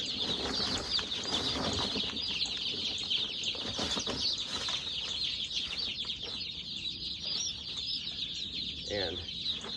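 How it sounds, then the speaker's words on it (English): Hundreds of young chicks peep continuously and loudly inside a brooder, a dense shrill chorus with scattered pecking and rustling that stays steady throughout. "they immediately start at pecking away and getting settled right in"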